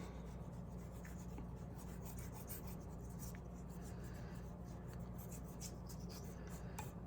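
Dry colour rubbed across paper to lay in grass on a perspective drawing of the Eiffel Tower, a steady soft scratchy rasping that keeps going without a break, close and fairly quiet, with no one speaking.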